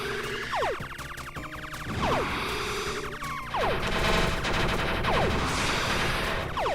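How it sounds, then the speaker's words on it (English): Enemy gunfire in the bullet-hell shooter Super Crome Bullet Purgatory, a dense, continuous barrage of rapid shots with repeated sweeping zaps layered over a busy game soundtrack, loud throughout with no voices. "So he shoots all kinds of crazy stuff."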